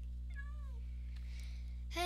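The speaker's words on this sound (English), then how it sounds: "that's my own cat" A cat in the Minecraft video game gives one clear, drawn-out meow, followed by a brief burst of another game sound at the end.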